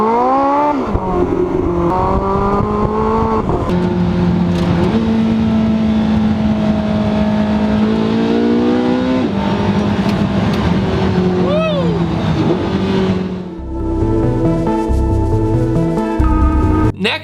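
A tuned Nissan 240SX drag car revs hard toward 9,000 RPM, its engine pitch climbing and dropping through several smooth pulls before a gear change, loud and close throughout.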